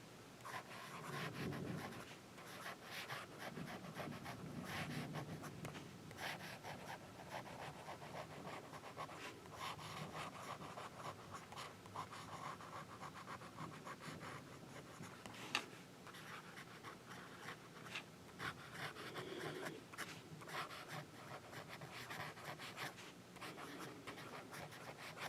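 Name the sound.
writing with a Lamy fountain pen, broad nib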